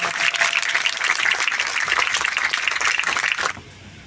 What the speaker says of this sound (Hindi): इन जवानों की हौसला अफजाई के लिए तालियां बजाएं